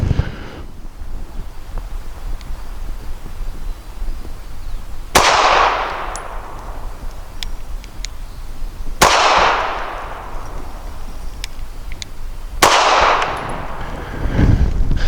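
A S&W Performance Center Shield EZ .380 pistol fires Legend Pro 80-grain copper hollow points outdoors: three sharp, loud shots spaced about four seconds apart, each with a brief ringing decay, over steady wind noise on the microphone.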